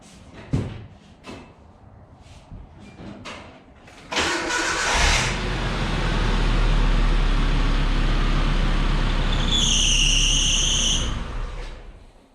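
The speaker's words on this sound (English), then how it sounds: "I'm gonna start her up again" 1997 Nissan Hardbody truck with new battery terminals: a few clicks and knocks, then the starter cranks and the engine catches and settles into a loud, steady idle close by, with a brief high whine near the end.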